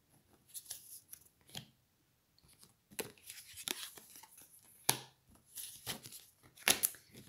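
Tarot cards are shuffled and handled in soft, irregular bursts of papery rustling and slaps, close and quiet, with short pauses between the handling.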